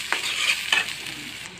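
Chopped onions frying in hot soybean oil for a home-style stingfish curry, with a steady sizzle and two brief, louder scraping stirs near the start.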